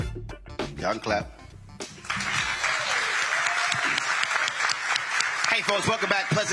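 Audience applause fills a church hall at a live town hall, a dense sustained wash of clapping that swells after a brief stretch of speech and continues loudly, with a voice cutting in near the end.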